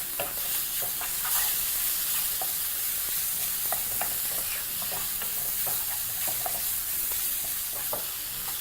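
Dried omena fish sizzles in a greased pan, a steady close frying hiss with frequent light spatula scrapes and taps as it is stirred.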